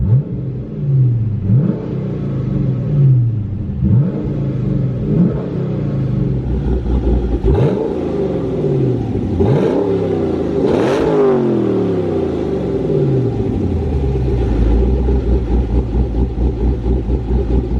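A loud LS V8 engine in a Porsche 911 revs hard in repeated bursts, rising and falling between throttle blips over a rumbling idle.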